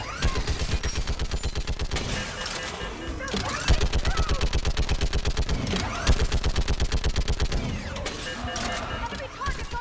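Rapid automatic gunfire in Mass Effect 3, a steady fast stream of loud shots that runs without pause, with short breaks where other weapons and impacts cut in, and voices shouting orders over it.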